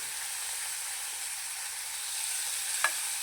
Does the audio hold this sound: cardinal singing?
no